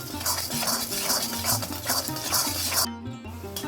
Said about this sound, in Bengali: ডিমটাকে দিয়ে অনবরত এরকম নাড়াচাড়া করতে হবে